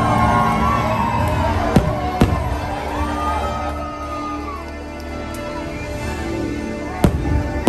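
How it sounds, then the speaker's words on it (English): Fireworks over Main Street at Magic Kingdom pop in a few sharp bursts, heard from within a large, noisy crowd with a continuous wash of voices. "We veered off right here on the edge and we watched the fireworks right on Main Street."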